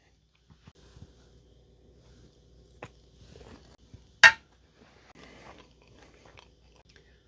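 Biting into an orange chocolate protein bar from a Danish 24-hour MRE ration: one sharp, close crunch followed by quiet, scattered chewing and faint handling noises in an otherwise silent room.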